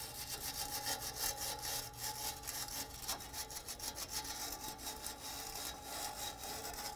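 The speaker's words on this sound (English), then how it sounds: "if needed, take a wire brush, clean the surface" A wire brush scrapes back and forth over a rusty metal exhaust manifold surface on a Chevrolet Silverado 2500 HD 6.0L V8 in steady, rapid strokes, close and fairly loud throughout, with no voices.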